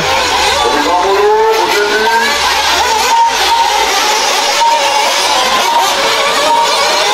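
Nitro RC truggy cars race around an outdoor track, their small engines whining and buzzing continuously at high pitch as they rev and shift, loud and steady throughout with no speech.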